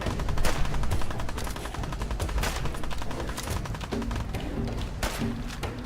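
Rapid gunfire rattles through a Fallout 4 firefight, dense automatic bursts mixed with single thumping shots, loud and continuous with brief lulls and no speech.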